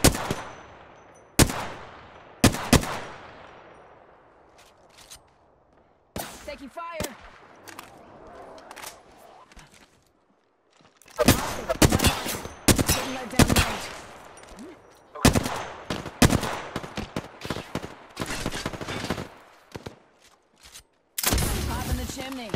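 Apex Legends gunfire rings out in sharp bursts and single cracks, some rapid automatic strings, others spaced shots with echoing tails, loud and close with quieter gaps between.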